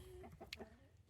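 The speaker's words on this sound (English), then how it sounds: "The one rooster that you've seen outside the cage there, he's our free range rooster" A free-range rooster on a farm gives a few quiet, brief clucking calls at a distance over low background noise.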